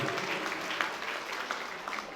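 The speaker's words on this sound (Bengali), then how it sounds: "সবাইকে আমার একটা জোরদার হাততালি" Steady applause from an audience at an English coaching centre's annual prize giving ceremony, a dense continuous clapping that holds at an even level throughout with no pauses.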